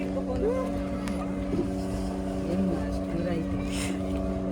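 A motorboat engine hums steadily throughout a boating ride, with strong low tonal drone and water noise, a person speaking over it.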